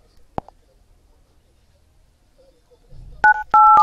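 Keypad dial tones on a Samsung Galaxy Ace 3 phone: a few short, clear beeps in quick succession following a single sharp tap and quiet room tone.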